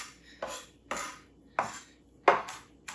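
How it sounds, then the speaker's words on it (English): A knife rough-chops vegetables for a cowboy stew on a cutting board, five sharp close taps at an uneven pace, each a clean knock of the blade against the board in a quiet kitchen. "then just give them a rough chop. Kind of using your knife on the board to bring them back."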